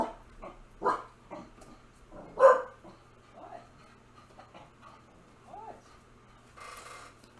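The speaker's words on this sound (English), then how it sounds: "Dog was barking her head off." A female dog gives a few scattered indoor barks and yelps of varying strength, one louder than the rest, with quiet stretches between them over a faint hum.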